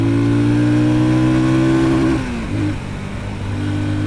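Sothassi Classic 400 retro motorcycle engine revving under acceleration, a loud steady drone rising in pitch before easing off briefly and picking up again, close and continuous with no talking.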